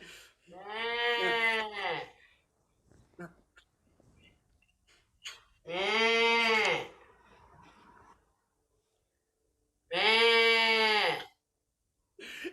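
A person imitates a goat, giving three long, wavering bleats separated by pauses, loud and close, with faint breathing and small noises between them.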